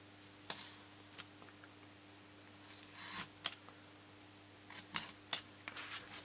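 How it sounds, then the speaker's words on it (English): Paper fuselage rib part being cut along a ruler for a small model aircraft, sparse quiet snips and ticks scattered unevenly over a hushed background, close but faint. "We can use the ruler to cut along where the straight lines are"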